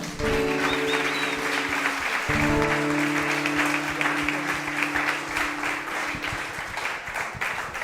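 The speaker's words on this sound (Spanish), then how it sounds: "Dele ese aplauso al Señor." A church congregation claps for the Lord at the close of a prayer, a loud, sustained round of applause with sustained musical tones underneath and a few voices mixed in.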